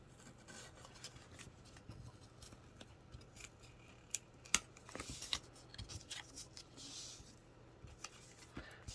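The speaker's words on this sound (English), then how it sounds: "trim this down just a little bit" Scissors snip card paper in a series of quiet close crisp cuts, irregular and sparse, with small rustles of the paper between them.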